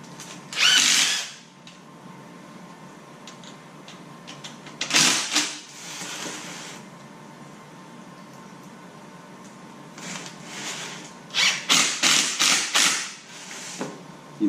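A cordless impact gun drives screws into a plastic stone crab trap in short, loud bursts of whirring and rattling, separated by quieter pauses with faint handling noise.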